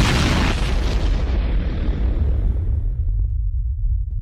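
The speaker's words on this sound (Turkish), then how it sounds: "Kablolar bomba gibi patladı." Electric cables bursting after a worker's tool strikes them during a sewer excavation: a loud explosive boom opening into a sustained roaring rumble that slowly thins out, with no talk.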